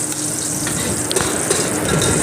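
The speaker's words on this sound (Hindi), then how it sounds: "अब ये ब्लेंडर हो रहा है, इसको देखें कितना ज़बरदस्त।" A blender grinds sautéed tomatoes and browned onions for beef paya, a steady loud whirring churn with a liquid gushing texture that runs continuously throughout.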